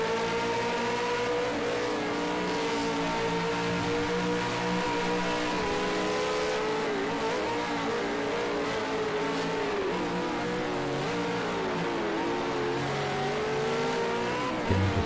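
V8 Supercar engine heard from onboard during a lap at Bathurst, a loud, continuous, close roar whose revs rise and dip through gear changes and corners, with no talk over it.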